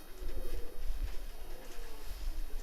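Pigeons cooing on a rooftop loft, soft repeated low coos close by with gentle rhythmic pulses, faint and alone without voices.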